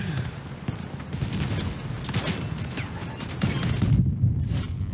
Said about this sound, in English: Lot of shooting.